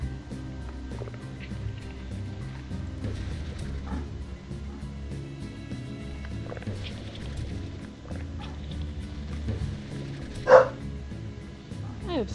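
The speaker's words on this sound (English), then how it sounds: "I do apologize for the barking." A dog barks in the background of a Slime Rancher gameplay session, mostly faint and muffled beneath game sounds and ambience, with one sharper, louder bark standing out near the end.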